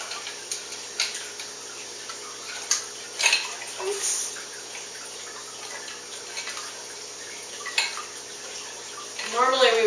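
Ice cubes made with filtered water and tipped from a sanitized tray drop into brewed tea for kombucha, giving scattered close clinks and light clatters over quiet room noise.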